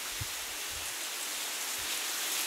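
Heavy rain pours across a flooded school campus at Khanpur B.L. High School, a dense, steady wash of noise with no breaks. A few soft low thumps sound faintly beneath it, and no one speaks.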